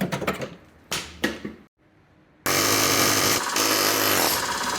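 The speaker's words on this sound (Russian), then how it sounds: "Приходится пилить обойму болгаркой" An angle grinder cuts through a seized shock absorber bushing sleeve, starting with a few sharp taps and knocks, then a brief lull, then a loud, steady, harsh grinding whine that fills the rest of the clip.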